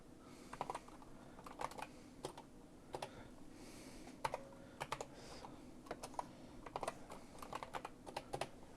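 Steady typing on a computer keyboard, with clusters of sharp key clicks at an uneven rhythm, close and fairly quiet, and no voices over it.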